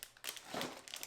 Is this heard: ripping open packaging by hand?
yes